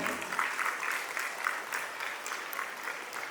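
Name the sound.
audience applause at a school annual day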